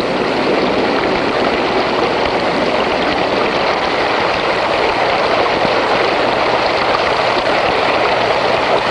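A flowing stream carrying rock debris rushes in a dense, steady hiss, loud and unbroken throughout with no voices.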